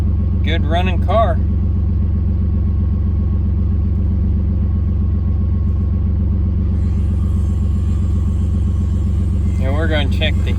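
A Ford Contour car engine idles steadily with a constant low rumble throughout, close by, while voices briefly talk over it near the start and end.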